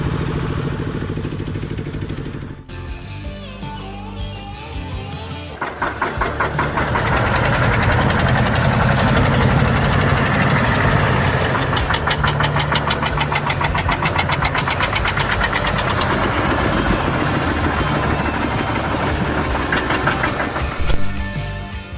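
A Landini 5000 tractor engine starts up and runs steadily, a loud, close, rhythmic diesel chug that holds evenly after a brief quieter lead-in.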